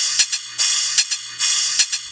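Drum top layer of hi-hats, cymbals and snare with everything below 500 Hz cut by EQ, leaving a thin, hissy, bright rhythmic wash with no low end, loud and alone.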